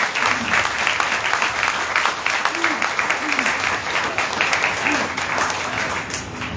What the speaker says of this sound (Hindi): तो एक बार जोरदार ताली बजाएंगे हम अपने परमेश्वर के लिए।